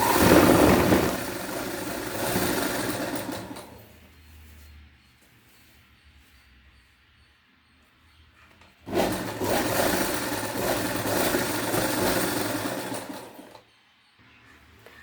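Zig zag sewing machine stitching fabric: a close, fast mechanical whir that runs for a few seconds, stops, then starts again for several more seconds before stopping, with quiet handling noise in the pause.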